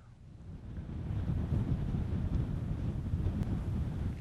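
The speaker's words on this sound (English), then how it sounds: "main engines firing, and we have liftoff of an ILS Proton rocket from the Baikonur Cosmodrome" Deep, rising roar of an ILS Proton rocket's main engines firing at liftoff from the Baikonur Cosmodrome in Kazakhstan, swelling from quiet into a heavy, sustained low rumble with wind-like buffeting.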